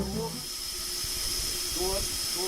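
Steam locomotive on a driving and firing footplate, a constant hiss of steam running throughout, with low rumble and brief voices under it.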